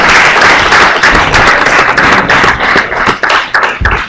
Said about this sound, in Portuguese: para quem eu peço mais um aplauso